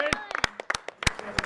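Audience applause at a poker main event final table, sharp scattered claps in an irregular rhythm, fairly close and moderately loud.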